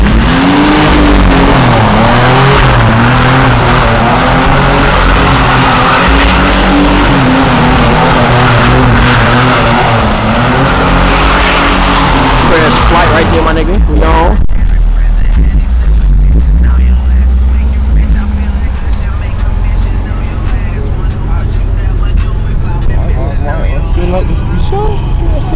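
A 1992 V6 car revs hard while drifting, its engine roaring loud and close with rising and falling pitch for about fourteen seconds before the sound drops to a duller, more distant rumble.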